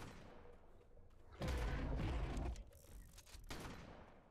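Gunfire in ARK: Survival Ascended on Scorched Earth, a loud blast of firing from about 1.4 to 2.5 seconds over a busy background, followed by a few sharper, fainter shots.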